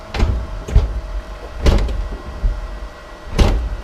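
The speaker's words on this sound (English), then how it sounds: "Shit, that door doesn't want to close." Doors on a Camaro being shut during a wiring build, heard as several separate thuds and clunks spread over a few seconds, fairly close, with no talking.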